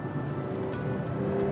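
Inside a Kia EV9 electric SUV, the artificial engine sound plays as the accelerator is lightly pressed, a faint steady synthetic drone with thin sustained tones over a low hum.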